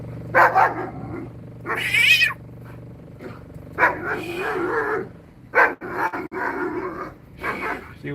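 A dog barks outdoors near old barracks, several sharp loud barks in irregular bursts mixed with grunts, while people talk nearby.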